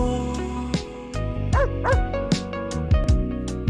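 A pet dog at a newly built family house yips and barks in several short, close bursts over a steady low hum, with whimpering tones between the barks.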